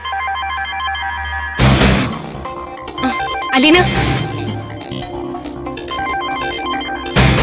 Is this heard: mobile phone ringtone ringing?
yes